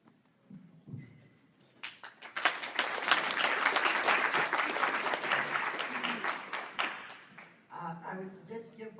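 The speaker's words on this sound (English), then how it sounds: "I would suggest give Byron another round of applause" Audience at a town hall meeting in Grande Prairie breaking into loud sustained applause that swells and then tapers off, with a voice speaking briefly before and after the clapping.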